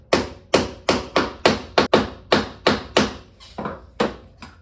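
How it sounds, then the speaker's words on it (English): A plastic-faced hammer seating a lead ball into a .45 Colt shell casing during handloading, about a dozen sharp close taps in a fairly steady rhythm, with a few lighter taps toward the end. "I seed it with the plastic side of this hammer."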